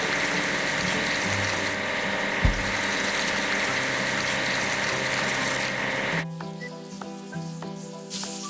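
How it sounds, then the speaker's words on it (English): A timber loader is brushed clean of foam in a simulation video game, giving a loud, steady wash of scrubbing and spraying noise. It cuts off abruptly near the end, leaving a quieter mechanical hum with light clicks. "Clean the dirt off the machine with a brush."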